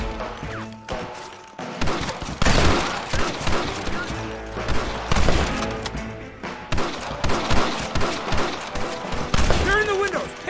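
Rapid gunfire aimed at snipers in a window in Red Dead Redemption on PS5, with dense overlapping shots, thuds and crashes in loud bursts, and voices shouting in between.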